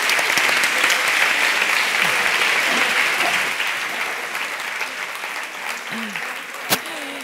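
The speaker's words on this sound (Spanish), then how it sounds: "Venga, con un aplauso, por favor." An audience applauds at a talk on dialogic-approach experiences, dense sustained clapping throughout that slowly thins toward the end, with a brief sharp knock near the close.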